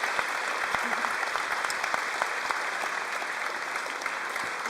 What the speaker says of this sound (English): Can we please have a big round of applause